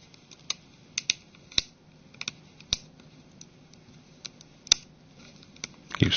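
Sharp plastic clicks and snaps scattered irregularly as a plastic pry tool works around the back cover of a Samsung Galaxy Mega 6.3, releasing its clips one by one, close up with no talking.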